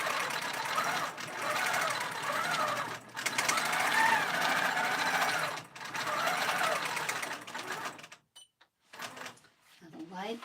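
A longarm quilting machine on a Cutie frame quilts a pillow top, humming steadily in long runs with short breaks, then stopping into scattered clunks near the end while a person talks over it.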